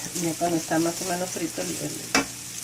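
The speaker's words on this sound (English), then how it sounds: "So she starts by frying up" Ham sizzles and crackles steadily in a hot pan, with a person speaking faintly over it and a sharp clink near the end.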